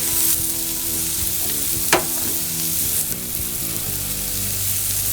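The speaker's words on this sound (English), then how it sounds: "We're gonna get this wok going." Vegetables and fajita fixings sizzle steadily in a hot wok over a tribal fire grill, a dense, continuous frying hiss with a brief sharp scrape of stirring partway through.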